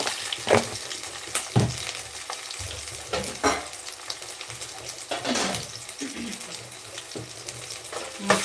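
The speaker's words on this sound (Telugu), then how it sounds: "దీంట్లో కాస్త అల్లం పేస్ట్ వేస్తున్నాను" Ginger paste sizzling in a pan for a semolina upma dish, a continuous fizzing hiss broken by repeated scraping stirs and clinks of a spoon against the pan.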